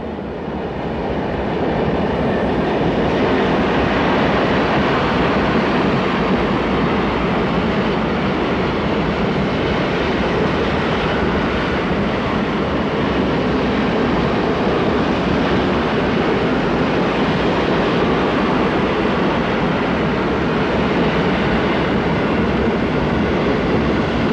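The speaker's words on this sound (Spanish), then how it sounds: "la serie E645 era la locomotora eléctrica más potente sobre las vías italianas" A heavy train hauled by an Italian E645 electric locomotive rumbles past continuously, a dense steady roar of motors and wheels on rails, loud and close throughout.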